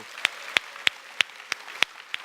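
In a church service honoring mothers, seven crisp, evenly spaced hand claps ring out at a steady beat, sharp and close against a quiet room.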